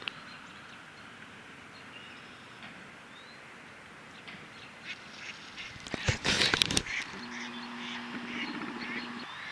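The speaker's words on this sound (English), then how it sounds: "That one duck got fed up. He just took off." A duck quacks in a short cluster of calls over steady outdoor background noise, followed by a low sustained tone.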